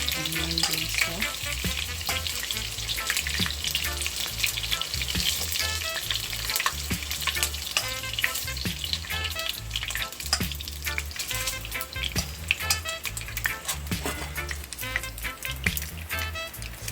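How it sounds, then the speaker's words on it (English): Onion and garlic hit a hot pan on a stovetop for a Jamaican chicken pasta, a steady close sizzle and crackle with occasional stirring scrapes running throughout. "I'm gonna add my onion and garlic"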